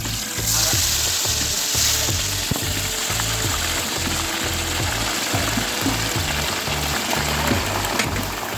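Cauliflower fries in a pan with a loud, continuous sizzle and bubbling crackle, close by, with a rhythmic low thumping underneath, while cooking a mixed paneer curry.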